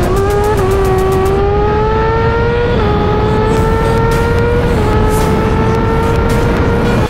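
A powerful car accelerates hard through its gears up to third, with a loud, steady engine note that climbs in pitch and drops at each shift, alone with no talk.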